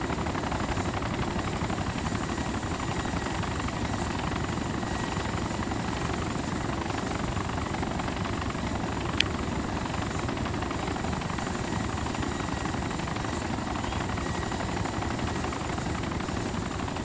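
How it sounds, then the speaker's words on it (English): Helicopter in the Arma 2 military video game, a steady, loud rotor and engine roar that stays constant for the whole stretch, close by and alone with no talking over it. "And of course the helicopter is sinking off without me knowing."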